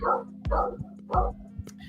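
A dog barks in short bow-wow bursts, three or four clustered barks with pauses, fairly close, over a steady low hum with faint talk nearby.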